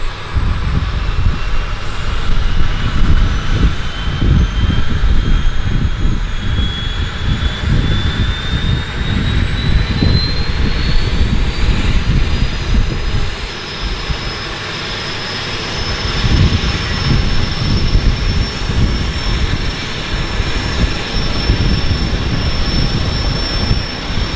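A Twin Otter's port turboprop engine spools up with a rising whine at Vancouver Harbour, rumbling loudly and continuously with a steady high tone climbing over the roar.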